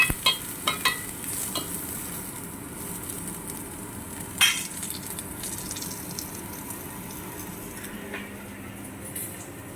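Seafood sautéing in a pan gives a steady moderate sizzle, broken by a few spatula taps and clinks, mostly at the start and once near the middle.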